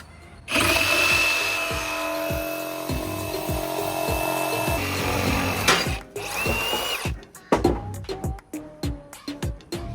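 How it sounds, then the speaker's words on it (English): A power saw fitted with a 9-inch blade cuts through timber for an aviary frame, whining loudly for about five seconds with a steady rhythmic thumping underneath, then sputtering into scattered knocks and clatters as the cut finishes. "We're gonna try to cut these down because they need to be cut as well. So let's start cutting. We got a 9-inch blade."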